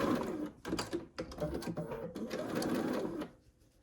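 Sewing machine stitching quilt seams on a gold-and-white Carpenters Wheel and Stars quilt, with a close, steady run of rapid needle chatter that briefly slows and then continues to the end.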